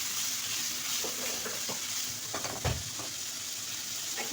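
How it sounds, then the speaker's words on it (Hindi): Potatoes sizzling and frying in hot oil in a pan, with a steady loud hiss throughout and a few scraping stirs of a spoon, one heavier knock near the end. "तो पहले हमने इसमें आलू ऐड कर दिए। इसको हम सही से मिक्स कर लेते हैं।"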